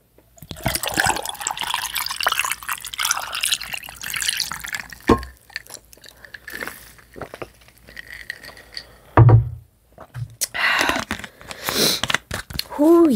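A drink is poured into a glass during a Nacho Doritos mukbang, a splashing, dripping liquid sound heard in bursts under a person's talk, with a louder pour near the end.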